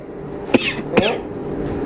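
A person coughs twice in quick succession, close and sharp, with a little low background noise in between.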